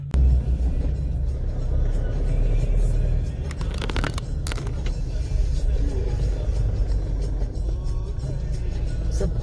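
A car engine on a Kashmir highway trip along NH44 near Udhampur runs with a steady, loud low rumble for the whole stretch, with brief scraping clatters and a faint voice in the background.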